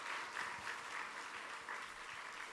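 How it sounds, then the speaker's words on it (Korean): A church congregation claps together during a Sunday morning service, producing dense, steady applause that fills the room for the whole stretch without a break. "다시 한 번 더 박수 하겠습니다."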